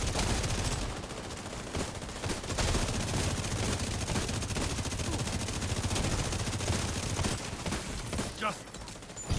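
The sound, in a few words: gunfire shooting at the boss in a video game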